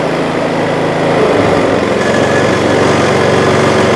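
A Kraft&Dele KD194 inverter generator engine runs loud and close, settling into a steady, even drone after a slight shift in tone just after it starts.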